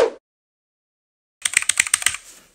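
Rapid typing on an E-Element Z-88 RGB mechanical gaming keyboard, a close, crisp burst of about eight sharp key clicks after a short silence.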